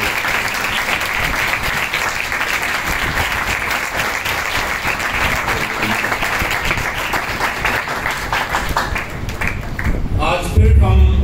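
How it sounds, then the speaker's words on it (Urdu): A church congregation applauds loudly and steadily, dense hand clapping filling the room without pause, with a voice briefly heard near the end. "آئیے یسوع مسیح کے لیے زوردار تالیاں۔"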